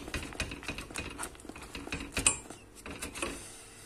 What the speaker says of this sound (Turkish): Hepsini koyalım ve tekrardan çırpmaya devam ediyorum.